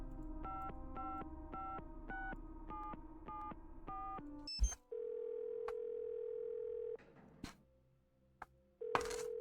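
Telephone tones in a game: a series of short, evenly spaced dialing beeps, followed by a long steady dial tone broken by clicks, then the tone returning; clear and close with almost no talk.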